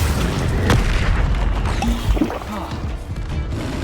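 A Bombarda blast spell goes off in the Hogwarts Legacy video game, a loud booming explosion layered with crashing impacts and dense game effects, with faint background voices.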